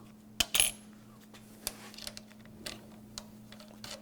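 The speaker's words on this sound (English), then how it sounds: "And I'll just spin that wing nut down." A metal wing nut spins down on the stand of a cordless LED work light, a few faint, sparse ticks and small metallic clinks up close in an otherwise quiet room.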